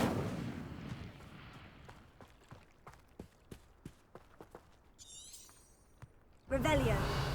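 Incendio fire spell cast in Hogwarts Legacy, with a run of sharp impact bursts and crackles, then a sudden loud whooshing flare of fire at the end, over low ambient rumble.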